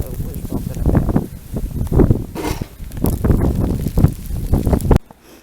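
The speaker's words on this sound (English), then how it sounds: "that was a gust right in my face" A gust of wind during a January snow storm buffets the microphone up close, a loud, rough roar that swells and surges for about five seconds before cutting off abruptly.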